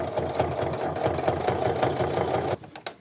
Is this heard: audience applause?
no